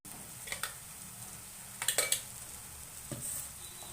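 Ground chili, coriander and garlic paste frying in oil for chicken ghee roast, heard as a faint sizzle with a few sharp scrapes and clinks of a spoon against the pan in short bursts, no voices.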